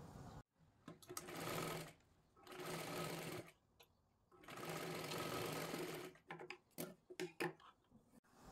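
A sewing machine stitches a seam on a katori blouse in long whirring runs broken by short pauses, then a series of brief stop-start bursts near the end, close and alone.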